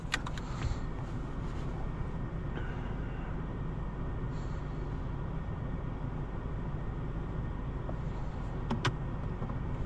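A 2024 BMW 760i xDrive driving, heard from inside the cabin as a steady low road and engine rumble with a few faint clicks, no talk.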